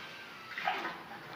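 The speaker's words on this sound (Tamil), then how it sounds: "இந்த ஸ்டேஜில் நம்ம வந்து தண்ணி வந்து ஆட் பண்ணிக்கணும்." Water is poured into a simmering South Indian curry (kuzhambu) on the stove, making a soft, brief splash that swells and fades over a quiet background.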